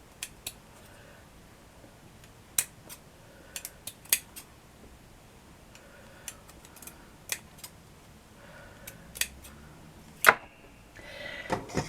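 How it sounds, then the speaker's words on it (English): Scissors cut around card for a desk tidy box, giving sparse, sharp snips scattered irregularly and close by, with faint rustling of the card and no talking. "Cut it about 1 centimetre around"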